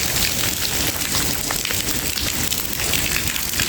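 A steady, close downpour of rain patters and hisses continuously on surfaces outside a home in Gujarat, with no voices, before a sudden cutoff at the very end.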